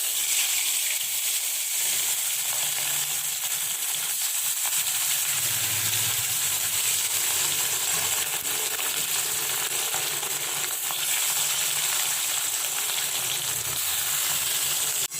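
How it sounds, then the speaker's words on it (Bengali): Hot oil sizzles and crackles steadily in a wok after turmeric is added, a continuous loud fizzing hiss with faint stirring scrapes and no talking. "কড়াইতে দেওয়ার পর, তার জন্য একটুখানি ওই গরম তেলের মধ্যে একটু হলুদ দিয়ে দিয়েছিলাম"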